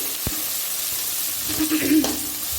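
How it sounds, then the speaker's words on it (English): Onion and green chilli frying in a pan for a tamarind egg dish, a steady close sizzle with brief stirring scrapes and a short voice underneath. "బాగా వేగనివ్వాలి, అంటే బ్రౌనిష్ కాదు"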